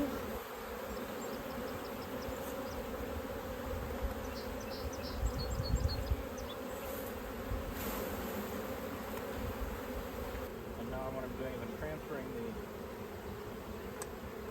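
Honey bees hum steadily around an open beehive during frame work, a close, continuous buzz with some handling noise and brief speech in the background.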